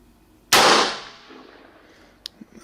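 A single sharp, loud rifle shot cracks nearby and decays over about half a second, fired by a hunter aiming through a Hunt Scoptics night vision scope, followed by a few faint clicks and knocks.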